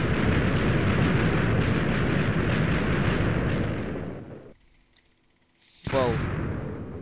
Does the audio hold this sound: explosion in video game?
yes